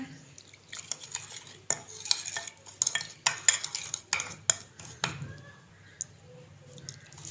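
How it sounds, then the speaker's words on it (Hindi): A spoon stirring chili powder, garam masala and water into a spice paste in a small bowl, with close scraping and clinking strokes in irregular bursts and a few wet taps. "इसको हमने पानी डाल के इसका हमने पेस्ट बना लेना है।"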